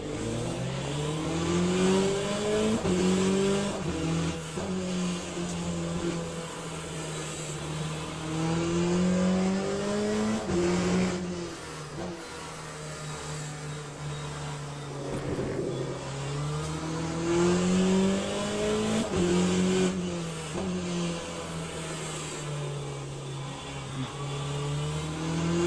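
Hypercar engine racing in Le Mans Ultimate, a loud continuous drone that rises and falls as the car accelerates and shifts gears, with no voices over it.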